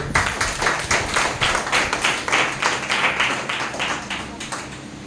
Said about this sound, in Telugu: కొట్టు చప్పట్లు